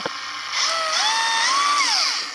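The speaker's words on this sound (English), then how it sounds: "I've got SP's newest brushless grinder. It's actually got speed control." An SP brushless 18-volt angle grinder with speed control spins up and runs slowly, a close whining motor tone that rises and wavers in pitch for a couple of seconds.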